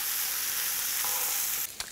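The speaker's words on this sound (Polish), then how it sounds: "I podsmażamy przez około 2-3 minutki." Mushrooms sizzling and frying steadily in a hot pan for a steak-with-Asian-mushrooms dish, a continuous close hiss that drops off near the end with a brief clatter.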